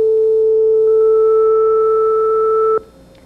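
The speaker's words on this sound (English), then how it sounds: "If I press in the harmonic control area button number 3, I could then dial in the 3rd harmonic," A Synclavier synthesizer sustains a steady pure sine tone with its 3rd harmonic added above it, loud and unwavering for under three seconds before cutting off abruptly.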